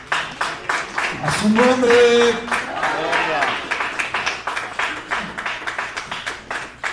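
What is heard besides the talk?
congregation applauding in church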